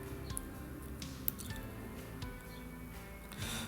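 A flexible Samshow toilet plunger is pushed down into a toilet bowl, making soft wet squishing and dripping sounds with small sloshes over a few seconds, close and quiet.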